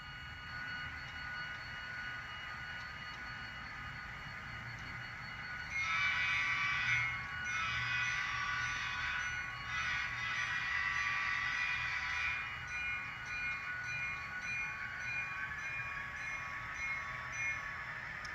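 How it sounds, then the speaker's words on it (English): A model train runs on a layout with a steady, faint rumbling hum and a higher whine that swells midway, continuing without speech. "let's get a train moving here"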